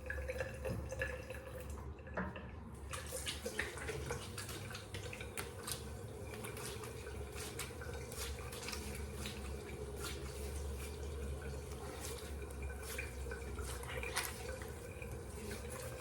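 Running tap water during a straight-razor wet shave with unscented soap, a steady close rush of water into a sink with dripping and splashing throughout, no voices.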